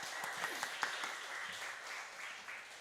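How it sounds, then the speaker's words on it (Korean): Faint congregation applause at a Friday night prayer service in a Korean church, a soft, steady wash of clapping heard from a distance. "축복하여 우리 박수하도록 하겠습니다."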